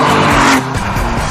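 A Lamborghini Miura's engine roars loud and close while its tires squeal in a short skidding burst. The engine note drops off partway through.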